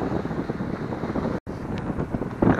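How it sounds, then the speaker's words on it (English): Cold wind blows across the Gold Cliff shoreline during winter angling, a steady buffeting roar on the microphone with gusty surges and a brief dropout, no talk. "This wind is killing them."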